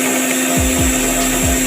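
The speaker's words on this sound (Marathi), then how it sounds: "आपण ही मिक्सरला बारीक करून घेऊया" A mixer grinder whirs loudly and steadily while grinding chutney paste, a constant close motor hum with a few low thumps as the contents shift.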